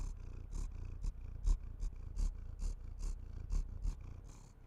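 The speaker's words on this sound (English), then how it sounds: "I don't know if you can hear him purring or not." A pet cat purrs up close in a rhythmic run of about a dozen soft breathy pulses, each inhale and exhale clearly separated, with no talking over it.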